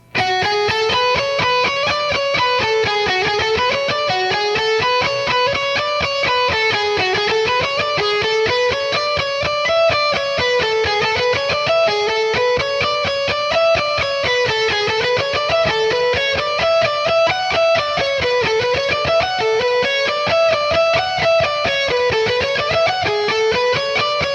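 Fast, relentless electric guitar shredding, a rapid stream of notes sweeping up and down in repeating arcs, loud and continuous with no pauses.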